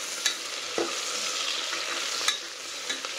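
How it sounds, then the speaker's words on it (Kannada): Chopped tomatoes fry with browned onions in a pan, a faint continuous sizzle marked by a few short stirring clinks and scrapes, with no one talking. "ಟೊಮೆಟೊನ ಹಾಕಿ ಇವಾಗ ಫ್ರೈ"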